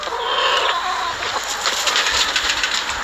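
Chickens cluck and squawk close by in a coop, a busy overlapping chorus of short calls that carries on steadily without any talk.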